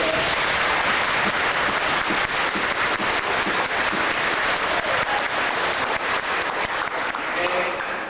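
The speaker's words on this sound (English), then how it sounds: "Give him a big round of applause." Audience applause for Mr. Schmidt at a Kris's Wish community event in Saskatoon, loud sustained clapping from a large crowd filling the whole eight seconds at an even level.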